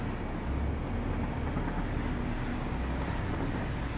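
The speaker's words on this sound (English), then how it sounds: "this train really is loud, isn't it?" Train in the video game Satisfactory, a constant, dense low rumble and rushing noise with no breaks, loud and unchanging throughout like a passing train heard close by.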